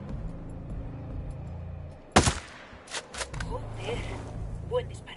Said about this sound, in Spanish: Joder, buen disparo.